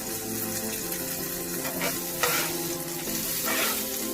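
Fish fries in a skillet for a Mediterranean grain bowl, a steady close sizzle with a few brief louder bursts of spitting and scraping, no voices.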